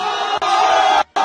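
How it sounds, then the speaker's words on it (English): Crowd roaring and screaming at a live Super Smash Bros. Melee tournament match, a loud sustained burst that cuts off briefly near the end and then surges again. "That's the whole crowd screamed."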